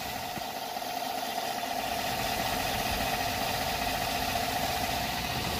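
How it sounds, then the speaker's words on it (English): A GMC Sierra or Chevy pickup truck engine, freshly fitted with new lifters and head gasket, idles at a steady mid pitch without change, a constant rumbling drone throughout and no voices. "I have the engine running already."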